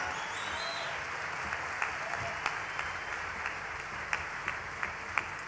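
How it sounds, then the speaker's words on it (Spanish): Concert crowd applause at a 2008 live show, a broad wash of clapping and whistling from the audience with several sharp, closer claps popping out at irregular intervals. "un aplauso para Baltasar"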